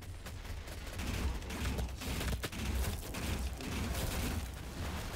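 Faint, steady gunfire and explosive rumble from a DOOM multiplayer Domination match, a dense low battle din running throughout with one sharper crack midway.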